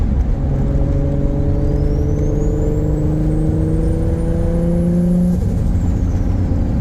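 A Nissan S13 Silvia coupe with an RB25DET engine drives on a summer road with the window cracked, giving a steady loud engine drone with a rising whine and a sharp drop near the end, with no talking.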